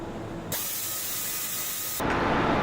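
Lacquer on motorcycle forks being buffed out with polishing compound: a steady, loud, broadband whirring hiss that starts abruptly and grows stronger near the end, with no voices.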